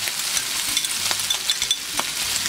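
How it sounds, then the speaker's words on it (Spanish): Bacon and ham browning together in a pan, a loud close crackling sizzle with scattered pops and light stirring throughout, no voices. "Ahora vamos a dorar bien el tocino con el jamón."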